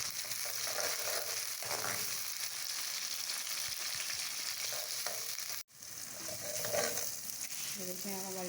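Onions and tomatoes frying in a pan for minced meat with green chilies, a dense, steady, loud sizzle filling the whole stretch, broken by one brief dropout and occasional stirring scrapes, with no voices.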